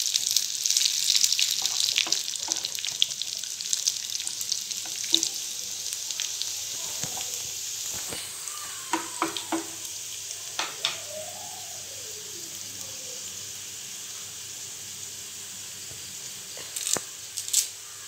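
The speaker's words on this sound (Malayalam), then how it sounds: "ചുവന്നുള്ളി ഒന്ന് മൂത്ത് വരുമ്പോൾ ഉണക്കമുളക് ഇടാം" Shallots and dried red chillies fry in hot oil for a Malayalam brinjal curry, giving a steady broadband sizzle with occasional clinks and scrapes of a utensil, louder at first and gradually settling.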